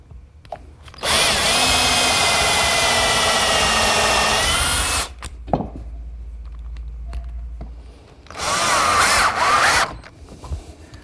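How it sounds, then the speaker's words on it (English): A handheld power drill pre-drills holes into wood and drives screws for a chop saw station, with two loud, close bursts of whining motor and grinding bit, separated by a quieter pause with light handling knocks. "now just set it in place, pre-drill some holes,"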